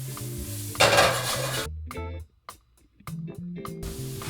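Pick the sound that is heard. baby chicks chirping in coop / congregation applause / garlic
garlic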